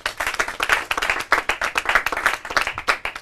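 An audience at a Portuguese-language competition finals and prize ceremony claps for an honoured guest, the separate hand claps quick and distinct, forming a lively, fairly close patter of moderate loudness.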